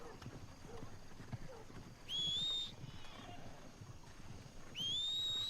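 Horse hooves clip-clop steadily at a trot in the video game Red Dead Redemption II, with two rising whistle-like tones over the rhythm and a voice talking at moments.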